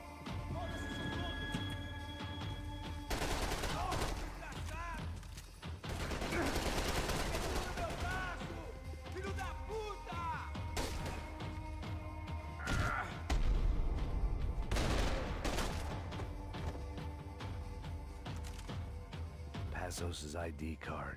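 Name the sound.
shotgun fire in video game Max Payne 3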